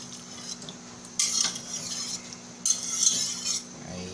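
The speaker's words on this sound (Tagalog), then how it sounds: "ilalagay na natin yung ating chicken" Chicken pieces go into a pot of arroz caldo, with soft stirring and a few sharp metallic clinks of a utensil against the pot, fairly quiet and close.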